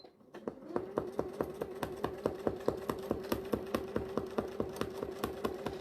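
A sewing machine stitches steadily through thick faux leather, a rapid even thumping rhythm of needle strokes, close and moderately loud with no talking.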